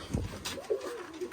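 Pigeons perched on a rooftop umbrella give a few soft, low coos with short gaps between them, close by and fairly quiet, with no talking.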